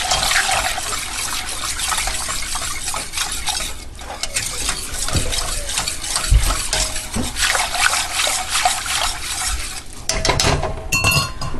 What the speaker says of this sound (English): Just keep whisking this until you get that well combined.